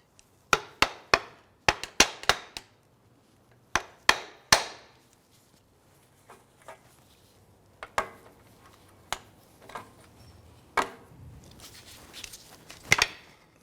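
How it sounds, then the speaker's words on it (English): A pry bar works between a CV axle and the transmission of a 2004-2008 Acura TL, giving sharp irregular metallic knocks and clanks, some in quick bursts, others spaced apart, close and fairly loud. "use a pry bar and get between the CV axle and the transmission"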